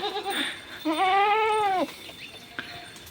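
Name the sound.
goats bleating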